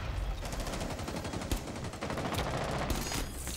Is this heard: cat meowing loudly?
no